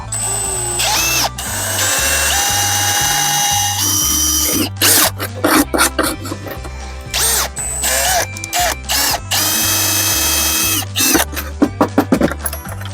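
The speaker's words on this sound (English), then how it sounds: "once you're done drilling, you can widen out the hole a little bit" A power drill drilling a hole for a shifter in a drag car whines loudly and steadily, then sounds in short stop-start bursts with the motor revving up and down.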